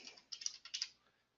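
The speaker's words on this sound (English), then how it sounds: "let me type that in" Several quick keystrokes tapped on a computer keyboard, close and clear, in a short burst of clicks that trails off into quiet.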